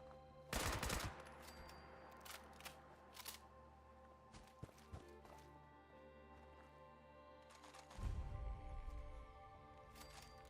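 Gunfire in the video game Fallout 76: a few sharp shots burst out early, followed by scattered quieter pops over a steady game backdrop, with a heavier blast near the end.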